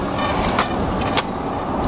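A truck engine runs steadily, heard from inside the cab as a loud, constant broadband rumble with a couple of brief sharp rattles, and no speech.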